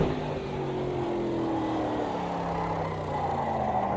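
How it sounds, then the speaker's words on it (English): A muscle car's 7-liter V8 runs at steady revs with a low, droning engine note that slides slowly in pitch, fairly quiet and with no talk over it. "And it has a humongous V8."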